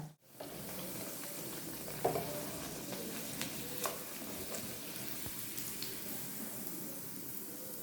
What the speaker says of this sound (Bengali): ফিশ ফ্রাইটা ভাজবার সময় ফ্লেমটা একদম সিমে রেখেছি যাতে ভেতর অবধি সেদ্ধ হয়।